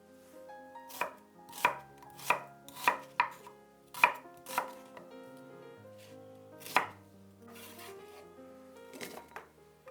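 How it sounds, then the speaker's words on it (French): A knife chops an onion into pieces on a board, sharp close thuds in an even run of about ten strokes that slows toward the end, with light kitchen clatter and no talk. "Je coupe en morceaux un oignon"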